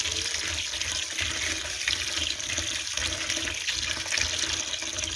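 Tap water runs steadily into a bowl of lentils and rice as they are rinsed for haleem, a continuous close splashing rush with no pauses.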